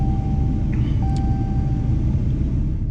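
Diesel engine idling on a push-button-start vehicle in icy weather, a steady low rumble that holds evenly and close throughout with a faint thin whine above it.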